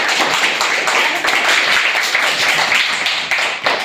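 Schoolchildren clap together for a quiz contestant at a Zilla Parishad primary school, a dense, steady round of applause filling the whole stretch at close range.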